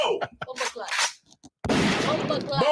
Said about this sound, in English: Let me get a gunshot.